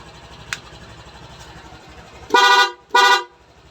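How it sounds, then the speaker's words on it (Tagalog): Two loud, blaring horn blasts in quick succession from an aftermarket horn on a Honda Click V2 scooter, each about half a second, over a low idling engine hum. "Loud horn."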